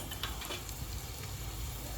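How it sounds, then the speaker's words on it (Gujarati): Fenugreek seeds, cumin and garlic sizzling in hot oil in a pan, a continuous close crackling hiss with small pops, steady throughout and heard alone. "આપણે તેલ આવી ગયું છે તો તેલમાં મેથી જીરું નાખી દીધું છે."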